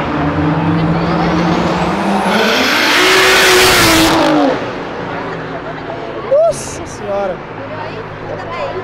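A BMW 1M engine revs hard at full throttle, the pitch climbing to a loud peak before dropping off, followed by quieter idling with short bursts and voices nearby.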